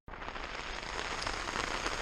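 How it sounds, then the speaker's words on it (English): Steady rain begins pattering on a tent at night during an outback cycle tour in Western Australia, a dense continuous hiss of drops close overhead that swells slightly. "It's beginning to rain."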